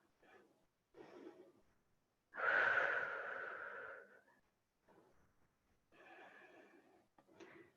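During a yoga class, a long audible exhale sounds close to the microphone, soft and breathy, with quieter breaths before and after it.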